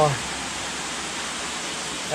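Water pours steadily down a temple waterfall, a constant broad rushing hiss close by with no let-up.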